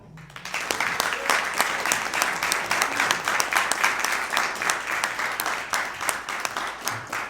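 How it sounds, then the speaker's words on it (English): An audience applauds as a speaker is welcomed to tell his story, sustained even clapping that swells in the first second and holds steady throughout. "give him a round of applause"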